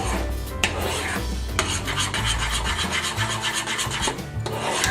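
A utensil scrapes and rubs continuously around a pan as a bubbling glaze is stirred on the stove, a loud, close, rasping sound with a few knocks against the pan.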